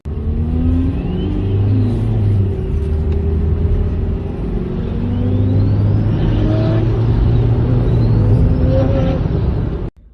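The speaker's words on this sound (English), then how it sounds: "It's very loud, the turbo noise." Inside a Nissan 370Z with a rear-mounted turbo, the engine drones loud and steady with a heavy low rumble, while whistling turbo spool sweeps rise and fall over it through a sustained pull before cutting off abruptly.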